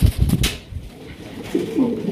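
A pair of big pigeons coos nearby, deep throaty calls bursting at the start and swelling again toward the end, with a quieter gap between.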